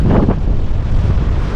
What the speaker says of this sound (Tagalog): Grabe, ang lakas po ng hangin. Umuugong talaga.